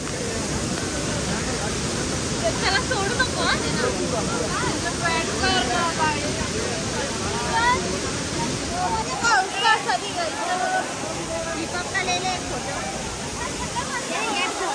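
A loud, steady roar of forceful, ice-cold water at Kempty Falls near Mussoorie, constant and close, with voices faintly under it.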